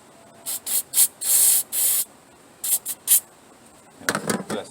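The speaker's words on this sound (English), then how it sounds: "Gotta spray that. Gotta spray them." Several short bursts of aerosol spray from a spray can hiss close by, one held longer, followed by softer rustling and handling noise, while working on a Nissan Altima's engine.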